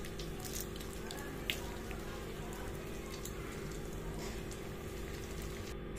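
Fish fingers fry in hot oil with a dense, continuous bubbling hiss and crackle, steady and close, with a low hum beneath and one brief sharp pop.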